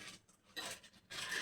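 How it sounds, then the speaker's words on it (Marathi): Kitchen utensils tumble and clatter in a home kitchen, a couple of short metallic rattling bursts separated by a pause, close and fairly loud with no talk. "आमच्याकडे भांडी पडतात आहे."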